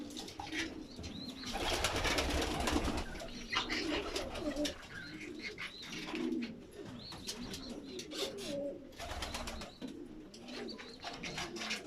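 Several pigeons inside a coop coo continuously in soft, throaty overlapping calls, with occasional chirps and wing rustles nearby.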